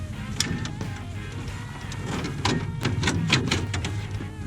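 A plastic dashboard trim cover comes off a truck's dash, heard as a few close, sharp clicks and snaps amid light rustling and handling noise; no one speaks.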